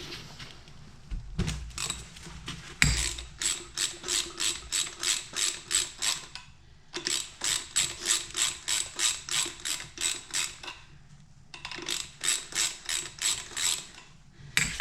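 Ratchet wrench clicking in rapid bursts of steady ticks while loosening the rear shock absorber stud on a Ford Fiesta MK6, close and clear, with short pauses between runs of turning.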